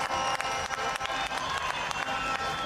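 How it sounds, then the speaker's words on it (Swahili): An outdoor crowd at a football tournament claps for the players, dense continuous applause close by with scattered cheers. "tuwapigieni makofi wachezaji wote"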